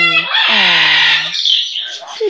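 Pet bird giving a loud, close, drawn-out squawking call with a harmonic, crowing quality that breaks into rougher chatter, heard alone.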